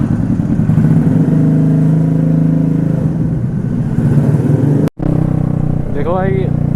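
A TVS Ntorq scooter engine runs steadily and loud at close range on a hot day, with a brief cut before the scooter sets off and accelerates, a voice speaking over the engine noise.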